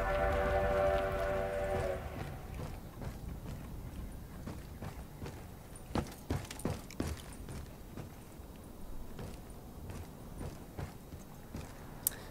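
In a Black Ops 3 hide and seek map, a game train sounds a horn blast, then rolls on in a steady rumble with repeated sharp clacks of wheels over track joints, close and continuous.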